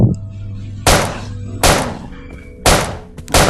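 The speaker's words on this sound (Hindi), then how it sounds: "छोटी गन से मारता हूँ।" A small gun fires in the Death Park horror video game: four sharp, loud shots spaced about a second apart, each with a short decaying tail.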